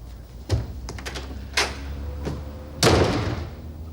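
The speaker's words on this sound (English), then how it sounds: "Why did she slam the door?" A door slams shut during a domestic argument in a house, with a loud impact near the end preceded by two quieter thuds and knocks; no one speaks.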